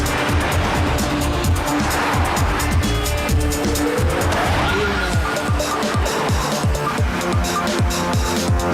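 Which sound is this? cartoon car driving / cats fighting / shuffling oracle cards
cartoon car driving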